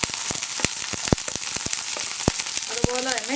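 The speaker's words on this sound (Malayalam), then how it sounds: "കടുക് ഒന്ന് പൊട്ടി തുടങ്ങട്ടെ" Mustard seeds crackle and pop in hot coconut oil while cauliflower-carrot thoran is being started, giving sharp, irregular close-up spits and clicks over a steady sizzle.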